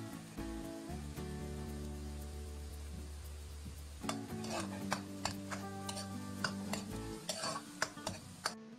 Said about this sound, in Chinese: 下入2/3的蒜末，保持中小火炒香。